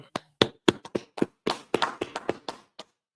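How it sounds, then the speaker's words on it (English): A small audience claps in separate, uneven bursts at a Biblical law class in Fayetteville, NC, with sharp hand claps landing about a dozen times over three seconds before tapering off into quiet. "clap it up"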